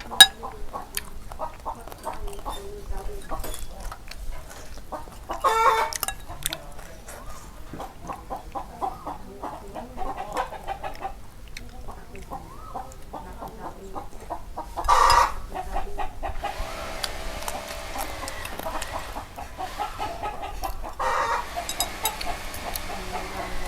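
Chickens cluck softly and intermittently in the background, with occasional louder bursts and a faint crow amid ambient outdoor noise, at a house beside a busy main road.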